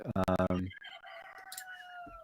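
A rooster crows once in a drawn-out cock-a-doodle-doo, heard faintly in the background after a burst of louder clattering, within a house.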